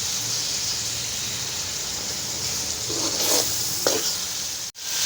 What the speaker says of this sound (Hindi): छोटे छोटे फ्राई करना ताकि कीमे का जो कलर है वो भी चेंज हो जाए।